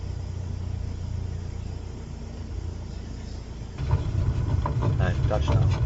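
An airliner touches down in Microsoft Flight Simulator: a steady engine and airframe rumble that turns louder and rougher a few seconds in as the wheels meet the runway, with no talking.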